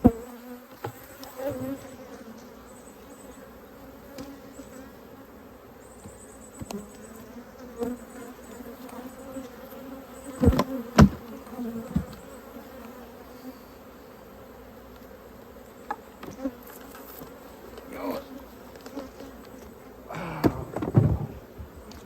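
Agitated honeybees buzzing around opened hives while mini mating nucs are stocked, a steady droning hum close by, with occasional thumps and knocks of hive boxes and gear.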